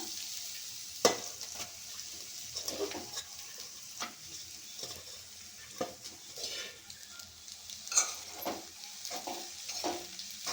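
Leftover cooked rice is stir-fried in a pan with fried mint paste, making a steady sizzle broken by scraping stirs and sharp clicks of a spoon against the pan, with no talking.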